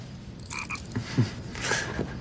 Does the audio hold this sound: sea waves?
no